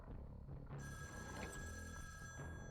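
A telephone rings in the video game Shivers 2, a clear electronic bell repeating in a steady pattern, alone without voices.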